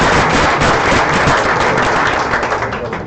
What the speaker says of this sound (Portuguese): Pessoal, uma salva de palmas para